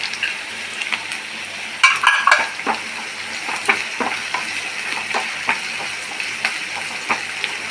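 Brinjal pieces stir-frying with curry leaves in a pan for a Kerala mezhukkupuratti: a steady close sizzle broken by irregular scraping and clattering spoon strokes, with a louder burst of stirring near the middle.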